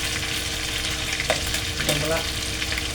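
Chicken meat fries with onions in a pan, a constant loud sizzle with a few stirring scrapes, and a voice briefly speaks over it.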